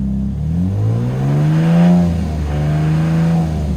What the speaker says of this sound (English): the noise that I'm hearing sounds identical to the timing chain rattle on startup